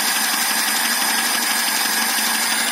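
A cold VAZ 2105 car engine with a Chinese carburetor idles steadily, a loud, close mechanical rumble with an even, slightly knocking rhythm and no talk.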